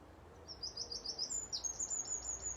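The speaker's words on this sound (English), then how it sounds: "Some birds tweeting, I don't know if you can hear it." Birds chirping outdoors near a bell spot, a string of thin high tweets, faint and somewhat distant over a low rumbling background, with no speech.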